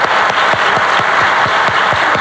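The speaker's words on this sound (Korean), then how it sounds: "우리 원로 목사님 와 계시는데 감사의 박수 한번 좀 드리시기 바랍니다" A church congregation gives a round of thankful applause for their elder pastor, steady massed clapping filling a large hall, loud and continuous with no talk over it.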